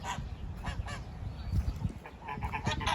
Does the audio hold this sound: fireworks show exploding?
no